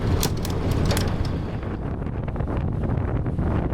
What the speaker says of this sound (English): We have a nice little breeze.